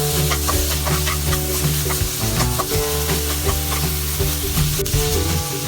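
Ginger garlic paste sizzles and fries in a hot pan, with repeated scraping and stirring strokes of a spatula in a steady, close, busy rhythm and no talking.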